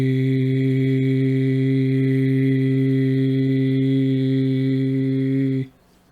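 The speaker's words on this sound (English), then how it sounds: "The chakras of the head vibrate with the vowel I, but in English, we chant it E." A man chants a long sustained 'E' vowel as a head chakra mantra, one steady resonant tone held close and loud for nearly six seconds before cutting off abruptly.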